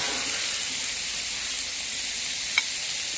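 Zucchini and onions cooked with soy sauce sizzle loudly and steadily in a hot pan, a close, dense hiss that barely changes through the moment.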